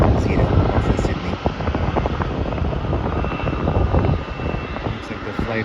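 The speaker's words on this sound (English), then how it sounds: "this Jetstar flight is going to Sydney. That's an Airbus A320 off of Sydney" A Jetstar Airbus A320 airliner flies past at an airport with a loud, steady engine roar and rumble that holds throughout. Faint talk can be heard beneath it.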